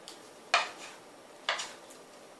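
A wooden spoon tossing spicy breaded chicken pieces in a pan, two distinct scraping clatters about a second apart, close and moderately loud over a faint sizzle, with no talk.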